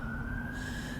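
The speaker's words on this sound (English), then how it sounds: "And there's the siren." An emergency vehicle siren in Blackpool sounds as a steady, sustained wail over low traffic rumble, heard at moderate distance without talk.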